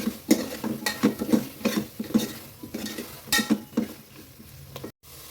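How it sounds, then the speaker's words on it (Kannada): A metal spoon stirs mutton legs into masala in a cooking pot, producing close, rhythmic clinks and scrapes with a light sizzle underneath, repeating steadily without any talking. "ಈಗ ನಾನು ಮಟನ್ ಲೆಗ್ಸ್ನ ಹಾಕ್ಕೊಡ್ತೀನಿ. ಇದಕ್ಕೆ ಹಾಕ್ಕೊಂಡು ಇದನ್ನ ಚೆನ್ನಾಗಿ ಮಿಕ್ಸ್ ಮಾಡ್ಕೊಳ್ಳೋಣ."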